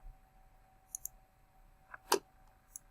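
A computer mouse clicks once while an email verification link is opened, a single sharp click standing out in a quiet room, with a few fainter ticks before and after it.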